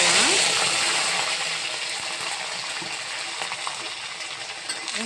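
Mustard seeds, onion, tomato and a red chilli tempering in hot oil, a steady close sizzle and spatter that slowly fades a little, with faint clinks of a utensil.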